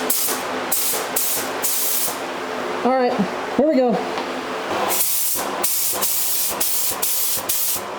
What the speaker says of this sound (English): Let's start spraying some primer